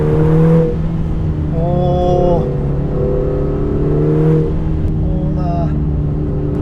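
Lotus Emira 2.0 engine pulling hard in track mode, a steady droning tone with rising pitch sweeps as it accelerates and shifts, heard from inside the cabin with someone talking over it.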